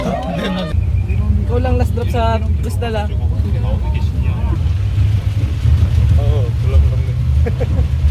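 A cramped local transfer van carrying twelve passengers drives along on Boracay, its steady low engine rumble and road noise running throughout, with passengers talking loudly over it near the start and again toward the end.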